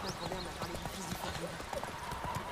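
Horse hooves clip-clop steadily in The Witcher 3, a busy, continuous gallop-like patter mixed with game sound effects and someone talking over it.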